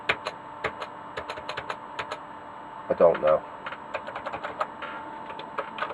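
A SAM Coupé computer keyboard with known key faults being tested: irregular clicking keystrokes, some in quick bursts, close and clear, with a brief spoken aside in the middle.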